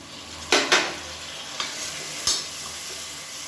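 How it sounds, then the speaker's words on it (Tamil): Chopped tomatoes frying in oil for biryani, with a steady sizzle broken by a few sharp scraping stirs of a spoon in the pan, close and clear with no voices. "200 கிராம் தக்காளி பொடியாக கட் பண்ணதை சேர்த்துக்கலாம்."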